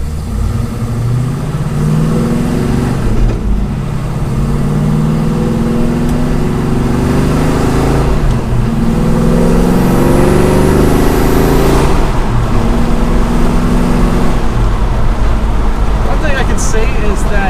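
A 1971 Chevelle SS with a T56 Magnum manual transmission cruises at highway speed, its engine droning loud and steady at low revs, with pitch sweeping up and down through gear changes.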